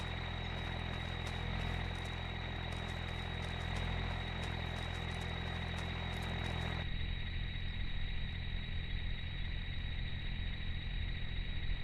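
A truck engine idles in the Farming Simulator video game with a steady low rumble, its tone shifting slightly about halfway through and then settling.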